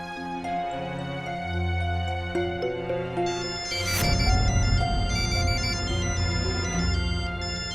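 A phone ringtone plays as a melodic electronic tune with repeating tones, fairly loud and continuous over dramatic background music from a Hindi TV drama.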